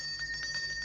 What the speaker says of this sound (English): I wonder why he's ringing the bell when the gate's already in.